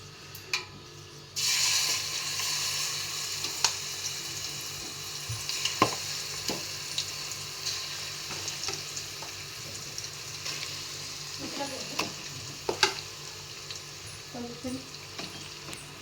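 A batter mixture drops into hot oil and breaks into a sudden loud sizzle that continues steadily, with scattered scraping and stirring knocks from the pan nearby, no talking.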